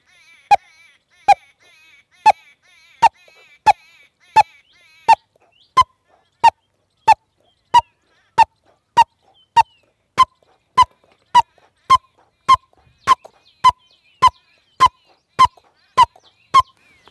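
A bird calls over and over in a steady, evenly spaced series of sharp honking notes, about two per second, loud and close with no talk, heard on a farm where grass is grown.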